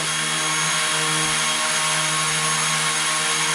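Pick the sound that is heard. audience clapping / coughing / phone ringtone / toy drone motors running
toy drone motors running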